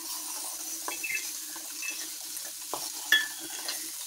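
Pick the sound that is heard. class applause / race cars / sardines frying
sardines frying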